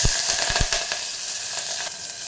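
Mustard seeds, cumin and green chillies fry in hot oil for a South Indian pappucharu tempering, giving a bright, dense sizzle with a few sharp pops and crackles near the start. The sizzle is close and steady, with no voices.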